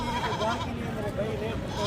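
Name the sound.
goats bleating at livestock market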